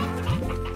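Chickens cluck in the Slime Rancher video game, a short burst of close, fairly loud clucking with a brief rising squawk over a steady game background.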